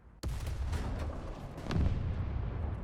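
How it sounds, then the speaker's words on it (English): A Type 60 SPRG firing its twin recoilless rifles in War Thunder: one sudden loud blast followed by a long rumbling tail, with another heavy boom swelling partway through. "And if you just fire normally, you actually fire both of them."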